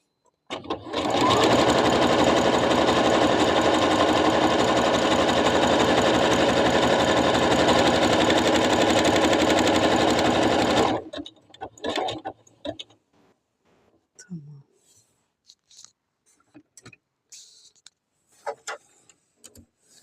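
A sewing machine runs a steady, loud straight-stitch burst for about ten seconds while stitching the elasticated corner of a fitted sheet, then stops, leaving faint handling clicks and rustles.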